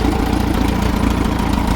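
A Case LA tractor engine idles in a field after a timing adjustment, a loud, close, steady rumbling chug with a regular pulsing beat and no voices.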